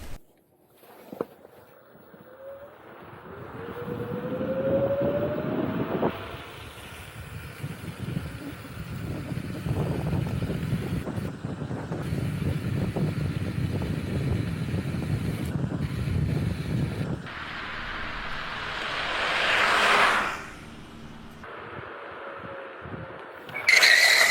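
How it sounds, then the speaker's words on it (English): A Kaabo Mantis 8 dual-motor electric scooter accelerates to about 25 mph on a flat asphalt straightaway, its rising motor whine buried in heavy rushing wind noise, then slows with a brief braking swell near the end. "dual motor maxing it out 25 miles per hour, which we're about to do right now in this flat straightaway"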